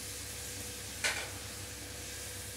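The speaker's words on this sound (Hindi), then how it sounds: "अच्छी तरह से मिलाएंगे।" Boiled sprouted moong dal sizzles in hot ghee in a pan as it is stirred, a soft steady fry with one brief scrape of the spoon near the start.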